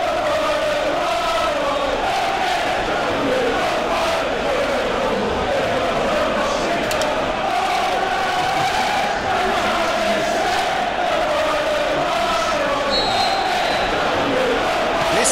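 A stadium crowd in the football video game PES 2018 gives a constant roaring murmur with swelling chants, steady and loud throughout, with commentary voices mixed in.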